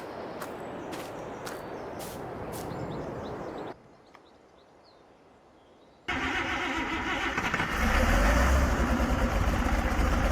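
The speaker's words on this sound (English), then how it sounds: "That tractor's got a good startup sequence." A tractor in Farming Simulator 22 on a Missouri farm runs through its startup: ambient clicks and birds, a brief near-silent pause, then the engine catches and settles into a loud, steady rumbling idle that rises slightly.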